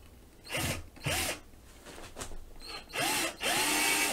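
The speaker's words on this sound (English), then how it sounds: "Is to continue the drilling." A power drill runs in several short bursts while a wooden coat rack is being built in a home workshop, each whir rising and stopping, with a longer double burst near the end.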